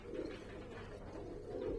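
Racing pigeons, yearling birds bred in December, coo steadily inside a loft, a soft low continuous murmur of several birds close by with no talk over it.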